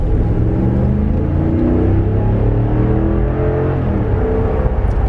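Cabin-heavy rumble of a 2019 RAM 1500 pickup accelerating, its engine drone climbing in pitch through gears with a dense, continuous low growl and no talk.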